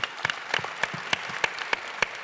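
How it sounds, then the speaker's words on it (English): Light applause from an audience at a business event, sparse individual claps ringing out at fairly regular intervals, quiet and close. "Big round of applause."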